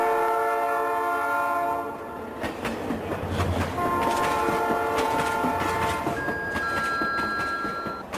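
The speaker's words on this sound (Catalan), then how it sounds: "Il treno regionale 3071 di Trenitalia." A Trenitalia regional train in Tuscany, rolling loudly with clattering wheels and sounding its horn in several long tones over music, with no talking.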